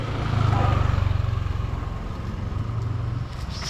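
A scooter engine hums steadily at a close distance while riding, a low even drone with rushing wind noise and no pauses.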